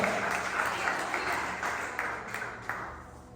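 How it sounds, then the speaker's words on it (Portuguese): A church congregation claps during a sermon, a continuous spread of hand clapping with a few sharper individual claps standing out, gradually easing in loudness. "Dê uma salva de palmas para o Senhor Jesus."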